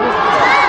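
A crowd at an outdoor Gimpo Citizens' Day festival stage roars with a brief, loud, dense burst of cheering that fills the whole moment.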